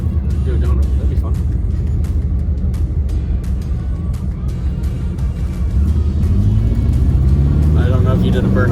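A car's engine revs hard and roars steadily through a burnout attempt, the tone climbing near the end, with people talking over it.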